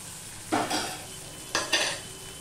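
Chili and cumin powder masala sizzles in a pan as water is added for cooking down the spices, two sharp hissing bursts followed by a soft fading fry, no voices.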